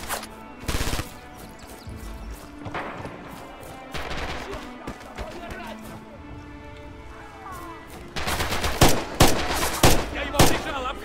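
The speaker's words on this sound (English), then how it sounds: "Shoot through the goddamn fence." Rifle and machine-gun fire in Red Orchestra 2, a June 1941 battle, cracks out in scattered shots and then a dense rapid volley, with voices heard now and then in the mix.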